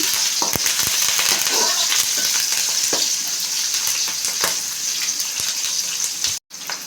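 Vegetable rice frying in a pan as it is stirred, a loud, continuous close-up sizzle with scattered scraping strokes of the spoon, briefly cutting out near the end.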